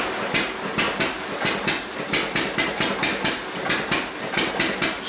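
A hit and miss engine runs under electrical dyno load, giving a steady train of sharp, evenly spaced firing thumps, roughly three per second, loud and close with no voices.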